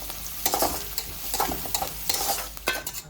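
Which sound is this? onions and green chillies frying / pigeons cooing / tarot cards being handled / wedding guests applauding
onions and green chillies frying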